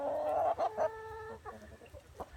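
Chickens cluck close by on a backyard estate with shaded plantings and a duck pond, a burst of clucks and a sustained tonal squawk over a few seconds, with ducks and other fowl around.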